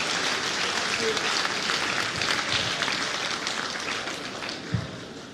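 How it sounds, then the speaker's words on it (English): Steady applause from a ceremony audience welcoming the chairman at a new members' induction event, a dense wash of clapping that holds evenly and fades slightly toward the end. "Please put your hands together for him"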